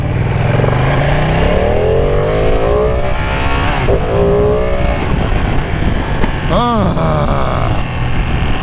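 A loud 2020 Ducati Panigale V2 sport motorcycle with stock exhaust revs and accelerates through rising gears, with wind rush and a sharp rising whine near the end.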